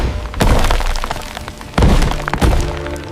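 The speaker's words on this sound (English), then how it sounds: "The beast swung its body, tail sweeping across, smashing trees, wood splintering." Trees smashing and wood splintering as a giant prehistoric porcupine's tail sweeps through a forest: three loud, sharp crashing impacts with cracking debris, near and heavy, with no talk.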